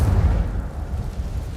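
A deep, short whooshing burst from the Incendio fire spell in the Hogwarts Legacy video game, strongest at the start and then fading into a low rumble.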